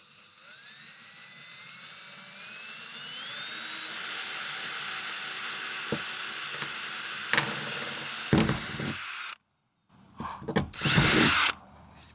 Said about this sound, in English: So I'm gonna start out drilling 4 pilot holes with this small bit